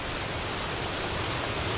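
A waterfall in the Tray Mountain Wilderness, a wooded wilderness area, gives off a constant, even hiss and roar of falling water, heard alone at moderate volume without pauses.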